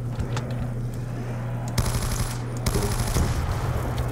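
Gunfire in Call of Duty Black Ops 2 Zombies on the Town map, rapid automatic bursts over a steady low game hum, loud and close, with a high tone ringing during the later bursts.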